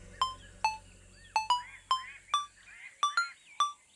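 A mobile phone rings with a call from mom, a close electronic ringtone of sharp repeated tone bursts in an uneven rhythm, about nine chirps over four seconds, heard alone.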